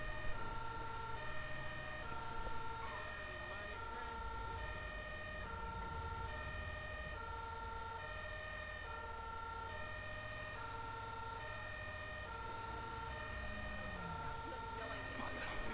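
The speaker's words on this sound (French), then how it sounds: "On va remettre les gyros, enfin les sirènes, et on va repartir." A two-tone siren of a Belgian fire engine in Grand Theft Auto V wails continuously over a steady engine rumble, alternating pitch at an even pace throughout.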